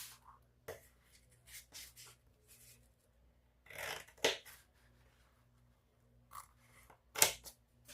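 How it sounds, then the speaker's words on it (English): Scissors snip through fabric corners while a crossbody bag is prepared for sewing, giving several short, quiet, close crisp cuts spaced irregularly between soft handling rustles. "I'm just going to cut the corners out right now"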